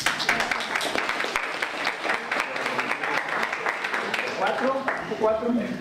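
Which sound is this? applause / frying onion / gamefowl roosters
applause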